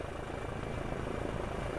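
A police helicopter flies overhead above dense trees, its rotor and engine making a steady, continuous droning whir with no voices.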